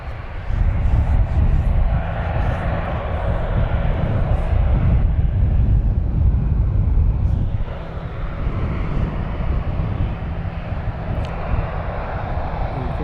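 Airplane taking off from the runway at Lanseria International Airport in South Africa, a broad, heavy engine roar heard from a distance, strong at first and easing slightly partway through, with wind noise on the microphone.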